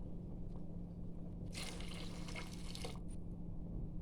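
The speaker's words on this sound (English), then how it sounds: "I'm going to add my coconut milk." Coconut milk pours into a pot of softened peas in one soft liquid stream of about a second and a half over a low, steady background hum.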